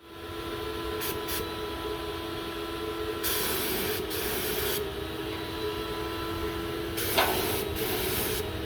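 A Graco 9.5 HVLP paint sprayer, used on functional louvered shutters, runs with a steady turbine hum under repeated bursts of hissing spray, each trigger pull lasting from a moment to over a second.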